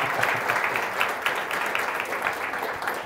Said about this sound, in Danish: I må godt klappe nu, synes jeg